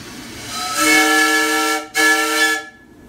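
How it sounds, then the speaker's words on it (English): A 1900 Locomobile steam car's whistle blows two loud, steady harmonic blasts, a long one then a shorter one after a brief break, close by and alone. "Here's the whistle."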